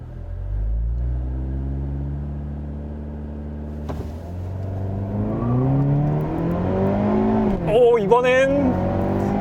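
A Hyundai Avante N launches under launch control in a drag race at a driving circuit, engine note climbing steadily through loud revs, with a brief sharp burst and rising whine near the end.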